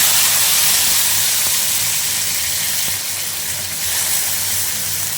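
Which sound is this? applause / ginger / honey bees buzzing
ginger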